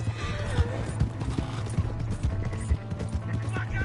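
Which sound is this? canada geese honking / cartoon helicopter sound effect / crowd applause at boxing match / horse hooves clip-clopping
horse hooves clip-clopping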